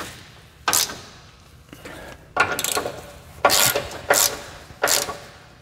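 A hand ratchet gives the final tightening to a bolt during work on a Ford SVT Lightning truck, five short bursts of rapid clicking separated by pauses, close and with no talk.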